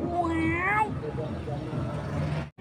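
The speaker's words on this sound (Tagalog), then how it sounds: "Ito yung pusa na ano. Sumasama sa bangka." A domestic cat gives a rising, drawn-out meow early on, heard close by on a fishing boat over a steady low engine rumble and background noise.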